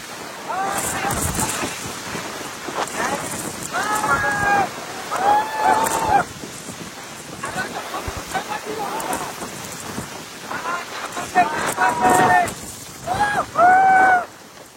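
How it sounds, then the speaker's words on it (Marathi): Strong gusts of wind roar and buffet the microphone at Matheran hill station in misty weather, rising and falling in loud surges while voices speak faintly underneath. "जाम जोरात वारा सुटला मित्रांनो पाहू शकता."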